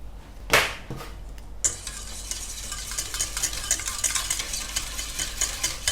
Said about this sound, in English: Now give that a good stir.